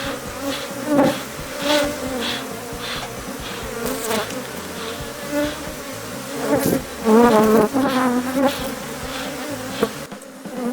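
Honey bees swarming around a hive as they follow their queen, giving a loud, continuous buzzing drone close by that swells and wavers throughout, with no talking.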